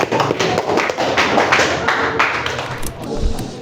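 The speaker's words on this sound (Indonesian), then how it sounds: "Berikan aplaus." Audience applause at an Islamic jurisprudence (fikih) lesson, a steady burst of clapping from a group lasting several seconds, fairly close and tapering slightly toward the end.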